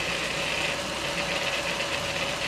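A Bafang mid-drive electric bike motor runs on throttle with a steady, even electric whine and hum. The tone is close and constant throughout, with no changes in pitch or level.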